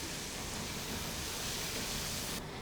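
Garlic browning in hot oil for masala bhindi gives a steady, loud, broadband sizzle that holds evenly without a break, no voices over it.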